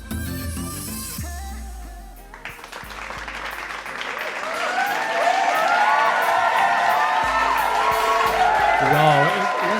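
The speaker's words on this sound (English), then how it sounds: "Come on, let's give it a nice round of applause" Wedding reception guests burst into applause and cheering for a newlywed couple's first dance, rising after a lull into sustained clapping and whoops while music with singing continues over it.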